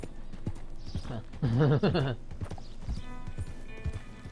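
Horse hooves clip-clopping in the Red Dead Redemption 2 video game, a steady close hoofbeat rhythm running under a voice throughout.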